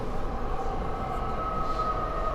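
A subway train on the R line pulls into an underground station, a steady loud rumble with rail noise and a faint high wheel whine running throughout, no voices.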